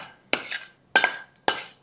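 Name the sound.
mixing jaggery and ghee mixture with a spoon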